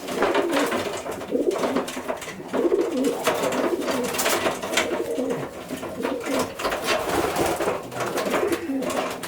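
Racing pigeons coo steadily inside a loft, a dense layered chorus of soft, rolling calls mixed with wing flutters and shuffling, close and continuous with no talk.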